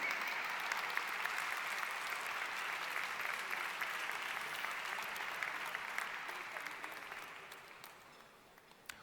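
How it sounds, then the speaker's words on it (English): An audience gives a steady round of applause at the Data Journalism Awards 2017 ceremony. The clapping is thick and continuous, then gradually tapers off near the end. "One more round of applause."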